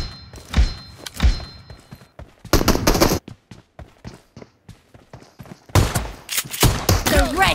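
Gunfire in the mobile shooter PUBG Mobile: sharp close shots, some single and some in bursts, with two dense volleys of rapid automatic fire and gaps of quieter game sound between them.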